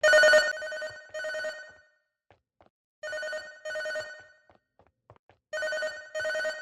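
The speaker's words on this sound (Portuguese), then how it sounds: "uma cutscene mostrando um telefone que agora começa a tocar" A telephone bell rings in a Catastrophe Crow game cutscene, three separate pairs of clear, close electronic rings with short silent gaps between them.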